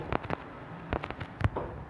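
Several sharp, booming video game explosions go off in quick succession, a couple close together and others spaced apart, each with a brief rumbling tail.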